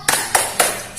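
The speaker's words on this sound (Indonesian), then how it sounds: "ayo kita tepuk semangat dulu ya anak-anak" Children clap a rhythmic spirit clap (tepuk semangat) at a Ramadan school session, four crisp, evenly spaced claps in quick succession, close and clear with no talking over them.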